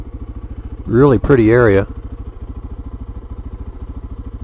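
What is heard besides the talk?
motorcycle riding on forest roads in Maine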